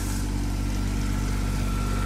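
A 405 train locomotive engine idling with a steady low diesel rumble and a faint constant whine, close and continuous throughout.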